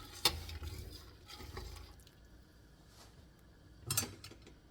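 A spoon stirs beef and barley soup in a pot, scraping the bottom with a faint swishing drag and a couple of sharp clinks against the metal, close and quiet.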